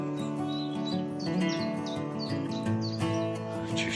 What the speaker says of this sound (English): I can hear some goldfinches as well, actually.